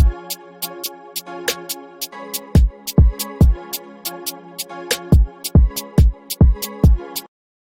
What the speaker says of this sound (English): the melody, hi-hat, snare, kicks will sound like this